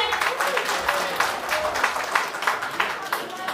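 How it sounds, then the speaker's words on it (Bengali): Audience applause at an outdoor solo song program, a steady loud wash of many hands clapping with rhythmic pulses, no talk over it. "একটা জোর করতালি হয়ে যাক তাহলে"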